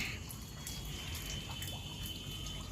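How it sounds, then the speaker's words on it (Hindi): Water leaks into a room's study area, a faint steady trickling and dripping with light splashes, continuous and low in level with no talking. "पढ़ने वाले जगह पे ही पूरा पानी आ रहा है"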